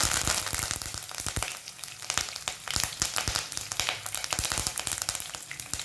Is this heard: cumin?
yes